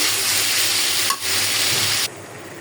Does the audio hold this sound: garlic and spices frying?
yes